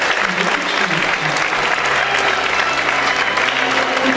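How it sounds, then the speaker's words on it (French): An audience at a Miss Somme pageant applauds a contestant with dense, steady clapping that fills the hall, with a few voices faintly audible beneath it. "vous pouvez encore les applaudir bien fort"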